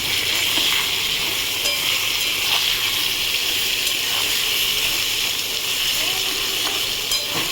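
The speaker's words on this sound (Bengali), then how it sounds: "দিয়ে দিলাম আর কটা কাঁচা লঙ্কা। দিয়ে আবার নাড়বো।" Green chillies and grated ginger fry with vegetables in a pan for a vegetarian sabzi, giving a loud, continuous sizzling hiss with soft stirring movements mixed in throughout.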